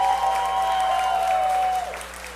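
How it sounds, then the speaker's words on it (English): A cabaret audience at a puppet show applauds Stephanie, dense and loud sustained clapping with a steady tone ringing over it, dropping off near the end. "So everybody give Stephanie a big round of applause."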